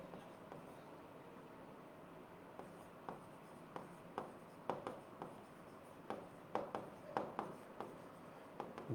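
Pen or chalk scratching out a written answer during a class 8 maths lesson, a run of soft irregular strokes and taps that grows busier toward the end, fairly faint and with no talk.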